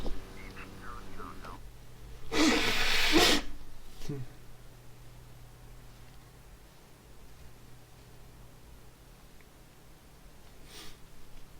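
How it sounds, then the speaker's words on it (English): Someone gives one loud, forceful nose blow lasting about a second, followed by quiet room tone and faint rustling. "Sorry, gotta blow my nose again."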